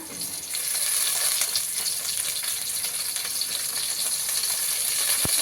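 Chicken biryani masala with tomato sizzling steadily in hot oil in a pan, a continuous loud frying hiss with faint stirring scrapes and small clinks, no voices.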